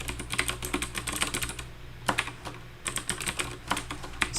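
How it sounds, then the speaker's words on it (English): Steady keyboard typing in bursts with short pauses, keys clattering close and clear over a low hum, as someone codes in Java. "I'm going to have to actually type it."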